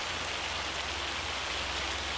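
Steady rain falls in Farming Simulator 25 as a dense, even hiss of drops on the ground with a low rumble beneath, continuous and unbroken with no voices.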